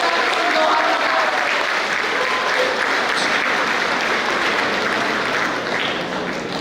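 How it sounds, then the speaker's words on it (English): Sustained, loud audience applause at a cultural programme for the Feast of St. Joseph Vaz in Doha, Qatar, a dense wash of clapping from a large crowd that holds steady and eases slightly at the end. "Ladies and gentlemen, with a big round of applause for the 40+ years of service in Doha Qatar."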